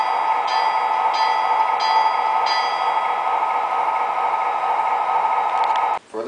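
An MTH Premier CSX SD40-2 model locomotive rings its bell in steady, rapid repeated strikes, loud and close, over a constant electronic hum, cutting out briefly near the end.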